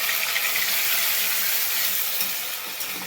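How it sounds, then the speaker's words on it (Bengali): A paste of ginger, cumin, green chili and tomato sautés in a hot pan, giving a loud, continuous hissing sizzle that eases slightly toward the end. "এবার এটা আমি দিয়ে দেবো, দিয়ে ভালো করে কষাবো"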